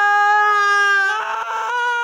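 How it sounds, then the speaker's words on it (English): A voice actor's high, piercing shriek for an animated character, one sustained loud cry up close that breaks into a rougher, strained wail near the end. "It is a shriek."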